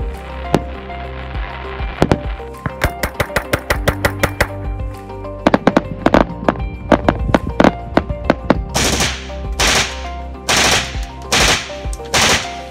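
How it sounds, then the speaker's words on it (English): Multi-shot fireworks cakes set off rapid bursts of sharp, loud bangs in irregular clusters, interleaved with gunshot-like reports for comparison; the sequence runs continuously and grows denser, with crackling, hissing breaks toward the end and no talk. "multi-shot pyrotechnic devices known as cakes tend to last longer than someone rapidly firing a few shots from a gun"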